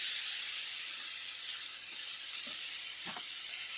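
Chicken tikka pieces, freshly flipped, fry in a pan over a medium-low flame with a continuous, even sizzle and hiss, a few faint taps from the pan near the end.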